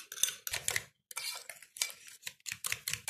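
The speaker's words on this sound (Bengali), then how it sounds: "এভাবে অনবরত নেড়ে চিনিটা গলাতে হবে।" A utensil scrapes and clinks steadily against a bowl while eggs and sugar are stirred together to dissolve the sugar, in quick, repeated close-up strokes with short pauses.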